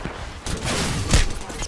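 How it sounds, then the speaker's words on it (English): Gunfire in a video game, a short dense fusillade of cracks and thumps rolling over about a second and a half, loud and close. "Getting shot at."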